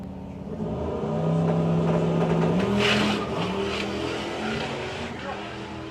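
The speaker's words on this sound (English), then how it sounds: "It's got a monster amount of horsepower, good few thousand horsepower underneath the hood of that Aston Martin" Aston Martin drag car with several thousand horsepower at a Doorslammers drag racing event, a loud rising engine roar as it launches and accelerates down the strip, then fading slightly, with an announcer talking over it.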